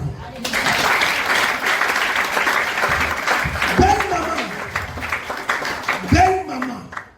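Church congregation applauding, sustained dense clapping from a crowd, with voices calling out above it near the end.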